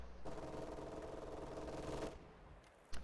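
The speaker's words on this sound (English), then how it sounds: "As predicted, MG42 pushes those conscripts away easily." An MG42 machine gun in a strategy video game fires one continuous rapid burst lasting about two seconds, steady and dense, followed by a single sharp shot at the end, with no voices.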